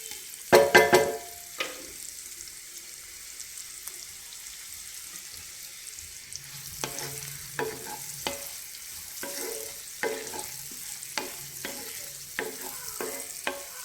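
Onions sizzle in a hot pan while being stirred for a Telugu chicken fry, with a constant soft frying hiss broken by a series of sharp scraping and clinking stirs, close up and with no talk.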